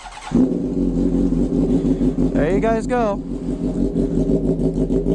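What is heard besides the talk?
straight-pipe motorcycle engine revving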